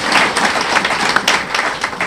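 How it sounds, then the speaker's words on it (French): A congregation claps during a church communion service, a short burst of dense, fairly loud applause filling the hall with uneven swells and no voices on top. "Applaudissez pour eux."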